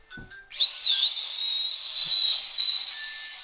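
A homemade whistle fashioned from beer cans gives a shrill, sustained tone that wavers briefly and then holds steady, loud and close, at an outdoor fishing camp.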